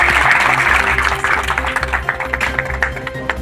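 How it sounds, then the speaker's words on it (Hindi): A crowd applauds to welcome a new member at a Congress party gathering, with quick overlapping claps that thin into scattered individual hits over a low steady hum. "जोरदार तालियां"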